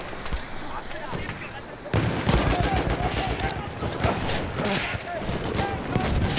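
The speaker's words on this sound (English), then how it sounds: "Feuer! Feuer! Feuer! Maschinengewehr!" Machine gun fire in a WWI video game, dense bursts of gunfire and distant shots crackling continuously, growing louder partway through, with shouting voices mixed in.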